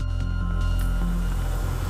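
Snapping shrimp recorded underwater in the open ocean: scattered sharp broadband clicks and crackles over a steady low rumble and faint humming tones, continuous and moderately loud, with no voices.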